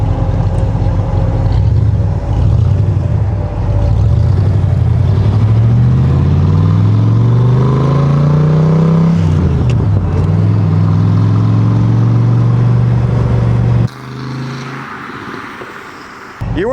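A 1965 Cobra on a suspension test drive after race prep, its engine droning loudly throughout with pitch climbing and falling as it accelerates and shifts, dropping to a lower idle near the end.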